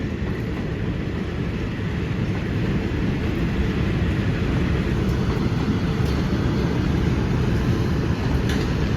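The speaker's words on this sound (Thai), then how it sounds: "รถด่วนดีเซลราง" Diesel railcar express train, a long five-car set, pulling out of Bangkok's Apiwat station onto an elevated track: a steady, loud rumble of engine and wheels that holds evenly throughout, with faint occasional clicks over the top.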